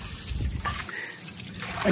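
Water gushes from a high-pressure tap outdoors, a continuous splashing trickle with uneven surges, fairly close and moderately loud, with no one speaking.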